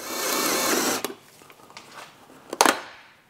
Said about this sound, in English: So we're gonna go and drill some holes and hopefully not punch all the way through the steel.